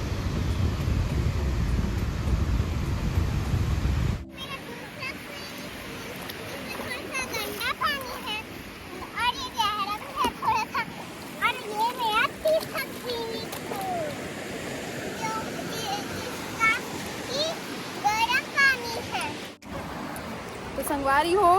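Sea waves wash and splash on a South Goa beach, a steady noisy surf with wind, while children and adults talk and call out over it throughout.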